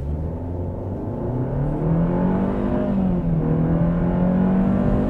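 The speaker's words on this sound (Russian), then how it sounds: "Ну ладно, погнали, газ в пол." A Ravon R4 car accelerates at full throttle downhill, its engine note climbing steadily and growing louder, heard from inside the cabin as one continuous rising drone.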